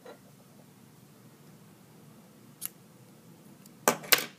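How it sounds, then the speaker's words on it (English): Scissors snip through crochet yarn, a soft close cut followed by two sharper, louder snips a moment later, against a quiet background. "And then you're going to cut off your working yarn"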